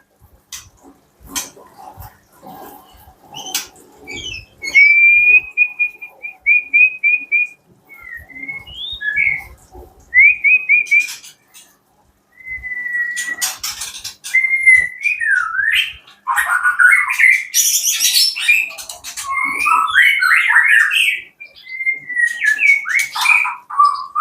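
An oriental magpie-robin sings a varied, whistled song of clear rising and falling phrases, close and loud, with bursts of rapid chirps and trills in between.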